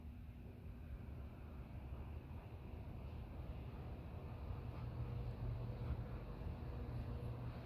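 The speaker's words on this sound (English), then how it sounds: "Well, the blower kicked on, so whatever you hear. I hear it. Oh, you definitely do up here. You can hear the air coming out of the vents, for sure." A furnace blower in a historic theatre-church pushes air out of the vents in a steady, broad, low rushing roar that swells slightly partway through, with no talking.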